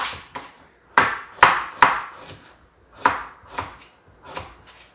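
A knife chops on a cutting board in a series of distinct, fairly close taps, spaced irregularly about half a second to a second apart with brief pauses, as carrot is finely julienned and minced for Korean holiday pancakes, with no voices.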